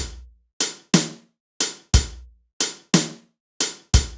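Drum groove from the PolyNome metronome app: shuffled hi-hat with kick and snare, a dry, evenly repeating pattern of sharp percussive hits with clean gaps, played alone and up close.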